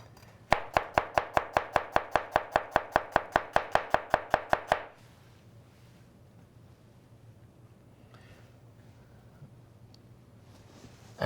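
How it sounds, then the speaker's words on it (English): Olives and red onion being coarsely chopped with a knife on a cutting board: a quick, steady run of about twenty sharp, close knife strikes, then quiet room tone. "I can chop it coarsely"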